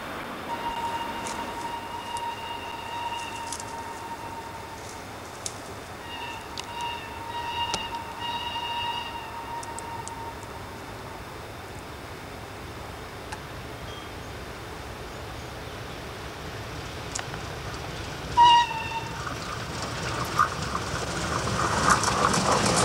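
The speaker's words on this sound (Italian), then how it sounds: "La tradotta va in stazione." Heard from the cab of a class 245 locomotive, a train rolls through a steady, rumbling rail noise with faint clickety-clack, while sustained tonal squeals and brake-like whines come and go, ending in louder hissing as it arrives at a station.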